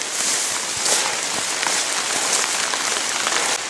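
Rain falls steadily, a close, hissing patter with scattered sharper drops across the whole stretch and no speech.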